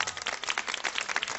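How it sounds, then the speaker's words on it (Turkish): A crowd applauding steadily, dense clapping filling the whole moment at moderate loudness with no voices on top. "Alkışlar Selahattin Özdemir abime gelsin."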